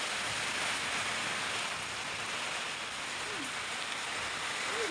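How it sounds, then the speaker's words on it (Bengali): Steady heavy rain pours down as a dense, even hiss with no pauses, fairly distant and without voices. "ভালো বৃষ্টি হচ্ছে।"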